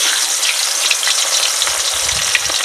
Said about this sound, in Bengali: এদিকে দেখো কড়াইতে আমার তেল গরম হয়ে গেছে, তো আমি রুই মাছগুলো ভেজে নেব